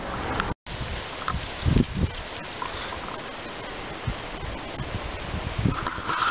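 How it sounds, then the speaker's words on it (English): Wind gusts across an open outdoor area in Sutter, a steady broadband rush with rumbling buffets against the microphone, continuous for several seconds apart from a brief dropout near the start. "It's windy out here in Sutter."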